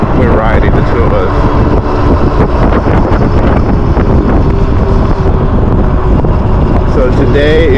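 Heavy wind roars and buffets across the microphone while two people ride Super 73R electric bikes. The rush is loud and continuous, with muffled voices faintly under it.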